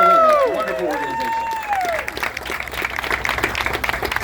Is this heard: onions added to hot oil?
no